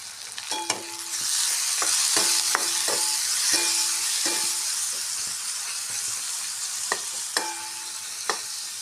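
Onions and tomatoes fry in a pan with steady loud sizzling, broken by repeated sharp knocks and scrapes of a spoon stirring against the pan, with nobody talking.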